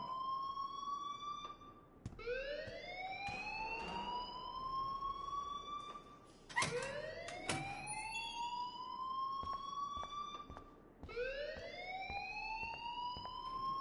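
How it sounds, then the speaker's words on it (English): A school fire alarm in the game Life is Strange wails in repeated rising siren sweeps, each climbing then restarting, loud and close, with brief clicks and thumps between cycles and no talking. "please turn off that alarm since that's your job"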